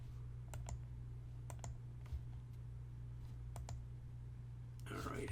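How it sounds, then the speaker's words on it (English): Computer mouse clicks, sparse and faint, set against a steady low hum, with a brief rustle at the end. "click here"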